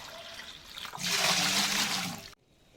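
Water pours steadily into a pot for a large five-kilogram batch of sweet pongal, a loud rushing splash lasting about a second and a half before cutting off abruptly, with softer trickling before it.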